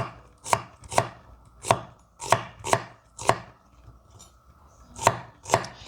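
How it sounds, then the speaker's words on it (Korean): A knife chops through half an onion on a cutting board, slicing it into thin strips: a steady series of sharp, close thuds, with a brief pause partway through the run, and no talk. "양파를 여기도 반 개 정도, 반 개 정도 채 썰고"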